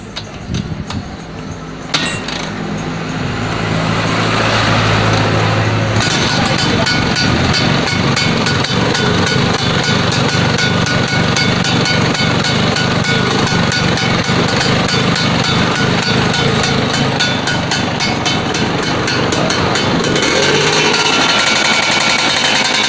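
Vespa PX scooter after points ignition repair, kick-started and then running, a loud continuous rapid two-stroke clatter that catches after a brief start and keeps going steadily for about twenty seconds.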